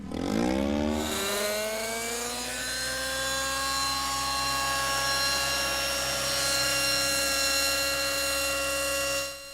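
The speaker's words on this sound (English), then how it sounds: "Chris Bomar from Drummond's, Tennessee, brought his helicopter." A radio-controlled model helicopter flies nearby at an RC flying club field in Halls, with a steady, loud turbine-like whine and rotor drone that rises in pitch as it spools up, then holds an even tone throughout.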